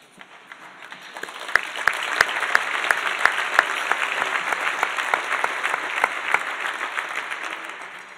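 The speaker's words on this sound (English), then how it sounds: "if we have applause after every line, which I appreciate" Enthusiastic applause from a gala audience at a law school's 125th anniversary celebration, swelling after a second into a dense, steady wash of many hands with a few sharp louder claps, then gradually easing.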